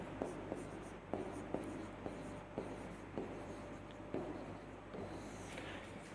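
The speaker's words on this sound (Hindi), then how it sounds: "यहां पे लिख देता हूं।" A teacher writes on a board during a biology lecture, making faint scratchy strokes punctuated by regular soft taps. The sound is muffled and continuous, with no clear speech.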